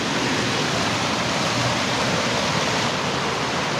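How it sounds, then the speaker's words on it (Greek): Small stream on a waterfall trail on Pelion, flowing as a steady broadband rush that stays even and fairly close throughout, with no voices. "Πρώτη διασταύρωση με νερό και ένα ρεάκι."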